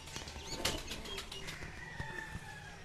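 Pigeons in a loft flap their wings in several short bursts, close by, with soft rustling between the flutters and no speech.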